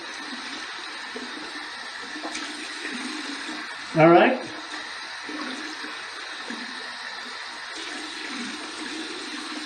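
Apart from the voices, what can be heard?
warm tap water running to soak shaving brush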